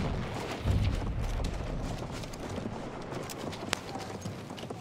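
A horse gallops in a video game, a dense rumbling clip-clop of hooves that stays loud and steady throughout, with no voices during the run.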